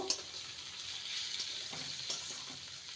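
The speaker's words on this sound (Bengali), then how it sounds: "এবার দিয়ে দেবো টুকরো করা আলু আলুকে ভালো মতন কষিয়ে নেব" Potato pieces fry in a pan with tomatoes for a methi potato curry, giving a steady, close sizzle with soft scraping and stirring noises throughout and no talk.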